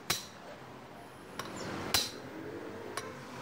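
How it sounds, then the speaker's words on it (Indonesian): A hammer drives a bearing down evenly through a pipe on a Kubota RD 85 diesel engine, five sharp metallic strikes at irregular intervals over a low background hum. "kita palu ke bawah secara merata ya."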